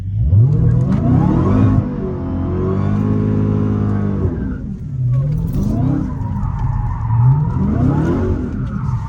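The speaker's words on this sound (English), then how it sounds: "So what you do, you start out with a burnout, right?" A Dodge performance car does a burnout, its engine revving hard in repeated rising and falling surges while the tires squeal and skid, loud and close throughout.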